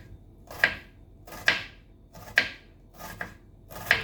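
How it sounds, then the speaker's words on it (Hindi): A knife coarsely chopping hot boiled food on a board, five sharp separate strikes at an unhurried, roughly even pace, close and clear, with no talking. "इसको गरम ही थोड़ा मोटा मोटा चॉप कर लेंगे।"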